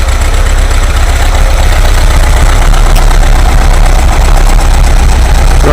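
A rebuilt VW 2 litre air-cooled engine runs at a steady idle, loud and close, with a dense continuous rumble and clatter throughout and no voices.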